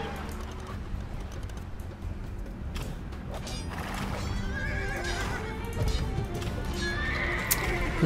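Horses in the Age of Empires 2 strategy game whinny and neigh repeatedly over a steady clatter of hooves, the calls rising above a busy, fairly loud backdrop of unit movement and faint mechanical creaks.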